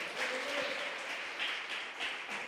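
A church congregation claps in applause during a sermon, a soft, fairly distant wash of many hands with slight swells and dips rather than distinct single claps.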